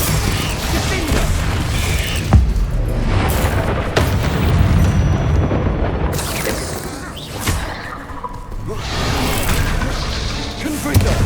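Confringo blasting spells explode repeatedly in Hogwarts Legacy while battling spiders, several loud booming bursts spread across a dense, continuous roar of combat noise.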